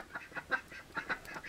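A group of new ducks quacking loudly nearby, several short harsh calls overlapping in uneven bursts with brief gaps between them.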